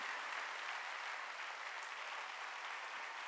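A congregation at a Wednesday church worship service claps together in sustained, dense applause, a steady wash of many hands at an even level, somewhat distant and with no voices over it.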